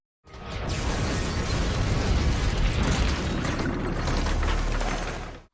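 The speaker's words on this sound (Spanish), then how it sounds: "así se ve cuando un tanque recibe un disparo de otro tanque" In a war film, a tank is struck by a shot from another tank, producing a sustained heavy rumbling blast with grinding, crackling texture, loud throughout and cutting off abruptly.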